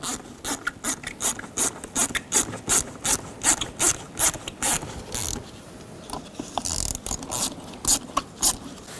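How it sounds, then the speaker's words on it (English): A socket ratchet loosens worm-gear hose clamps under the hood of a 2010–16 Buick Lacrosse, giving loud, rapid clicking strokes in a quick repeated rhythm, close up and with no talking. "Now loosen up these worm clamps. Use a 7mm socket or a straight blade screwdriver."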